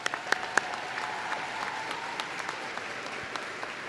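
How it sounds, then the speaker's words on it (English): A college commencement audience claps at a spring graduation ceremony, steady applause from a crowd with sharp individual claps popping out, moderately distant and without speech. "I think we should give them all a big round of applause."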